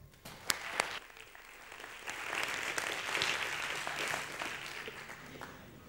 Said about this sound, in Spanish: un gran aplauso para Alex Puch.